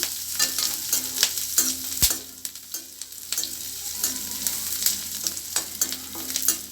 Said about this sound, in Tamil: இந்த கருவேப்பிலை கொஞ்சம் நல்லா வதங்கிருக்கு